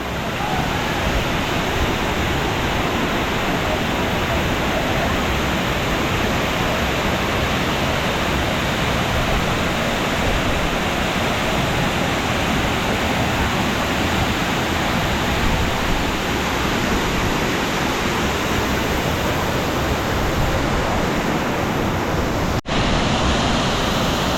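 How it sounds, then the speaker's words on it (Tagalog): The Bantakay main waterfall roars with loud, steady rushing water, a dense broadband wash that continues unbroken and close for the whole stretch, with a brief bump near the end. "nandito na tayo sa main falls lakas ng lagaskas ng tubig dito"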